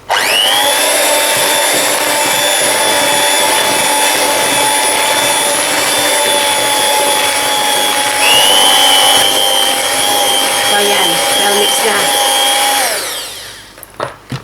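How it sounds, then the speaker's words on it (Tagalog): An electric hand mixer whirs steadily through cupcake cream cheese filling, a loud, even high-pitched motor whine that shifts pitch slightly midway, then cuts off near the end. "imimix lang natin to using a hand mixer"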